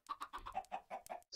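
Chickens clucking in the Minecraft video game: a quick run of about eight close, evenly spaced clucks, loud and clear with no talking over them.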